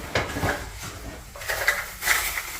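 Aluminum cookware from a budget 26-piece set, a large saucepan and a Dutch pot, handled up close, giving several light metallic clanks and scrapes spread over a couple of seconds with no one talking.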